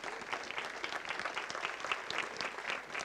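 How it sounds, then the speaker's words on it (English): An audience at a medical talk gives steady, fairly distant applause, with an even wash of many hands clapping throughout and no voices standing out. "We give a big applause"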